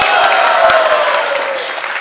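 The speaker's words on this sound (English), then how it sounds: "Big round of applause for our Kartal and Mridanga players." Applause erupts from an audience at a Hari Katha gathering for kartal and mridanga players, a dense, loud wash of clapping that fades slightly toward the end.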